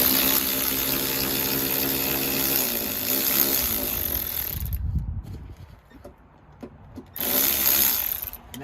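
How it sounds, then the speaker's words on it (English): A Milwaukee power tool with a 10mm socket and extension backs out a rear seat cushion bolt in a 10th-generation Honda Civic, whirring steadily for several seconds, then dropping away briefly before a short second burst. "take your Milwaukee, or take your 10mm socket"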